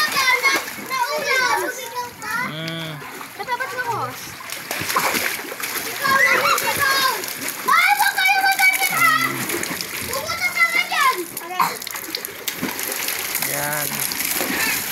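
Children splash and play in water while bathing, with bursts of splashing, excited kids' voices and shouting, and an adult speaking at times throughout.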